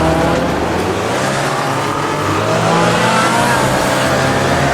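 A race car in Assetto Corsa on the Prinzenpark street circuit drops down a couple of gears to second, its loud engine roaring continuously close up as revs shift through the downshifts.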